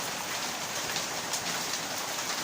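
Heavy typhoon rain pours steadily over farmland, a dense unbroken hiss close by with no pauses, a continuous downpour without talk or thunder.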